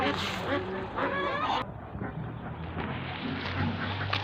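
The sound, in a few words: goose calling at the market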